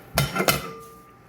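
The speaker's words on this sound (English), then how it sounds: "then I just dump my rice in like this" Rice is dumped into a pot of boiling water in a home kitchen, giving two close rattling clatters of grain hitting metal and water, followed by a fading ringing hiss.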